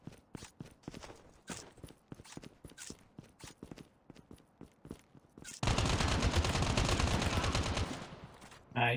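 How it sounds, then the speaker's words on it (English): Scattered sharp gunshots in Call of Duty Mobile battle royale pop in an irregular rhythm, then a dense burst of continuous rapid fire takes over, fairly close and loud. "I hear gunshots on my right."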